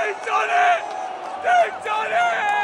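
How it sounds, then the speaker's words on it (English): Spain supporters cheer in a World Cup football stadium, a distant crowd roar in swelling bursts of whoops and shouts. "is the cheer from the Spain supporters in this ground."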